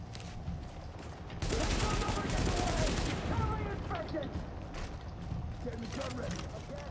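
Enemy gunfire in Tom Clancy's The Division at a Hudson refugee camp rail yard, a dense sustained burst of shots lasting a couple of seconds, then lighter scattered firing and mechanical clatter, with a voice talking over it.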